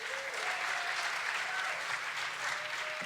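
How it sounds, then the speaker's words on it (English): A concert audience applauds at a night of music, sustained, even clapping from a crowd with a faint tone drifting through it. "Give yourselves a round of applause"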